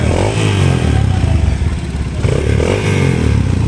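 A motorcycle engine revs loudly and close by with a rough, throbbing rattle. The pitch rises and falls with the throttle.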